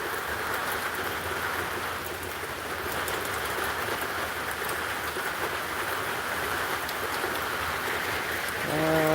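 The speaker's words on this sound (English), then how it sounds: "Rainy, rainy, rainy." Steady rain falls across an outdoor scene in North Georgia, a continuous broadband hiss of drops hitting surfaces that holds a constant loudness, with no talking.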